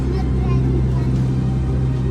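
A 115 horsepower outboard motorboat engine drones steadily and loudly at cruising speed on the Chobe River, its low hum continuous and close throughout.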